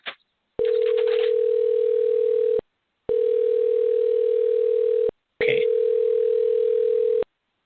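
Three long, steady telephone ringback tones sound while a call is placed to a guest, each about two seconds with short silent gaps, loud and clear with no voices over them.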